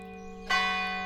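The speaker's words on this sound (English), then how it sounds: "The tolling of the church bell woke Abby with a start." A single church bell strikes once, bright and ringing, its tone sustaining and slowly fading over a steady low hum.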